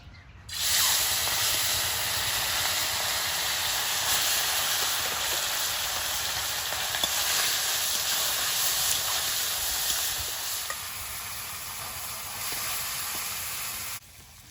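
Fish pieces coated in turmeric frying in hot oil in a wok, a steady broad sizzle and hiss that runs for several seconds, close and fairly soft, with no talking.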